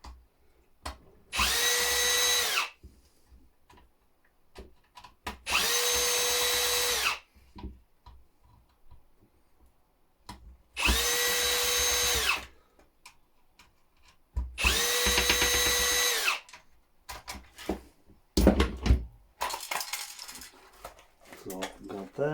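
A power drill removes screws from an appliance control board, whirring in four separate bursts of a couple of seconds each, with short pauses and small clinks of loose screws between them.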